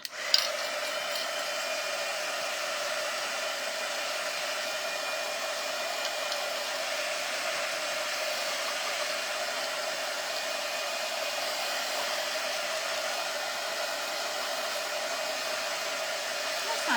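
A hair dryer blows steadily and loudly on red craft paint coated over a metal piece, a continuous even whoosh with no break for the whole stretch.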